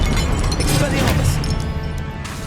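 An Expelliarmus disarming spell is cast in the Hogwarts Legacy video game, a loud crashing magical burst that gradually fades amid dense combat noise, with a voice over it.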